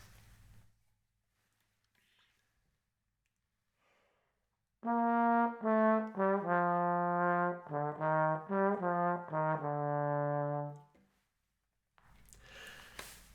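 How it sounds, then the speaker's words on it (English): A trombone plays a short run of smoothly connected notes, moving up and down, loud and close, with silence before and after. "On trombone, it'll sound a bit like this."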